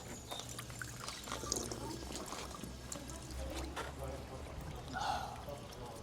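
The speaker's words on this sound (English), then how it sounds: "One of the things that makes this so tranquil is just the trickling of this water here" Water trickles steadily from a fountain statue in Florence's Boboli Gardens, a soft continuous splashing hiss heard close, with faint outdoor ambience and murmuring around it.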